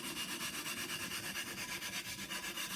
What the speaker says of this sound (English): So just work this around with no pressure around the coarse diamond stone